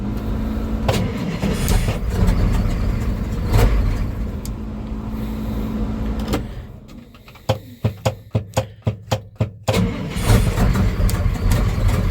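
An old engine built from early Ford Bronco and Scout parts roars to life and runs at a loud, uneven idle. A quick series of sharp mechanical clicks interrupts it, and it is cold and reluctant to idle smoothly.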